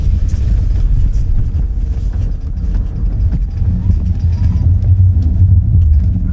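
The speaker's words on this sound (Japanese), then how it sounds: "極めて安全に雪の上で全開走行をしています" A 2023 Nissan X-Trail runs at full throttle on snow, giving a steady, loud, low engine rumble with constant wind buffeting throughout.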